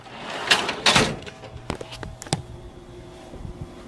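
A tool-chest drawer of wrenches rattles and slides in a workshop, with two loud metallic clatters followed by several sharper clicks and knocks that fade to quieter handling.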